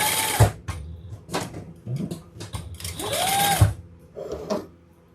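A sewing machine stitches fabric while straight-stitching the sides and top-stitching the bottom of a sewing project, running in several short bursts separated by brief pauses, close up and fairly loud, with no talk.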